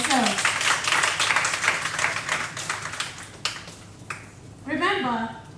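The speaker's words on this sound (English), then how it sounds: "Another round of applause for yourselves" Applause from a young audience at a girls' ICT event, dense clapping filling the first four seconds before fading, with a voice speaking over the end.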